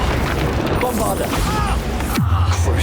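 Bombarda explosion spell cast in Hogwarts Legacy, a loud booming blast in the middle of busy combat noise, followed by a descending whoosh that settles into a low sustained rumble, with a voice shouting over it.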